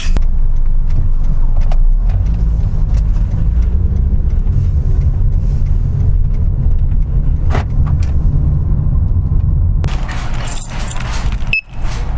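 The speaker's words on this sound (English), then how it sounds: "God, this traffic cycle's taking forever." Car in stop-and-go traffic, heard from inside the cabin: a loud, steady low engine and road rumble with occasional light clicks and rattles, and a brief shuffling thump near the end.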